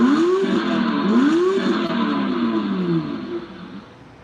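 Electronic start-up engine effect from a 24V battery-powered kids' ride-on toy car, with loud, close synthetic revving tones that swoop up and down several times before fading toward the end, with no other sound.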